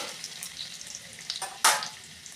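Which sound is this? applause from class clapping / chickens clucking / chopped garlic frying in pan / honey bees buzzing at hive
chopped garlic frying in pan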